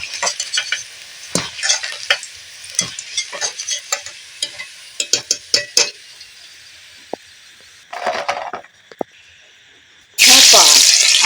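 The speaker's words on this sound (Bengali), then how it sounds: "এবারে দিয়ে দেব এই কলাগুলো কলাগুলো প্রথম ভেজে নেব" Bananas fry in hot oil in a home kitchen, loud close stirring and utensil clatter over a steady sizzle, ending in a sudden burst of fierce hissing as they go into the pan.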